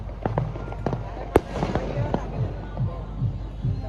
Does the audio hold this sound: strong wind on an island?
no